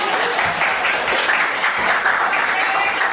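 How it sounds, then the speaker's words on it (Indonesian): A classroom of students claps together in a steady, busy round of applause that stays loud through the whole short stretch, with a voice faintly mixed in. "Iya, tepuk tangan."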